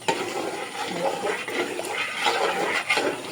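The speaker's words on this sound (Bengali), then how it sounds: "পানি দিয়ে দিচ্ছি" Water pours into a cooking pot while beef biryani is being made, a steady close splashing gush lasting a few seconds.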